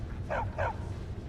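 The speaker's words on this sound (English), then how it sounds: "Oh, they got a couple dogs." Two quick dog barks in a Skyrim estate, a short close pair of woofs heard over a low background hum.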